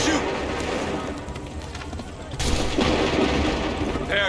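A musket volley in the Assassin's Creed 3 video game erupts suddenly as a sharp, dense burst of overlapping shots with a rumbling tail, following shouted commands and a busy battlefield background.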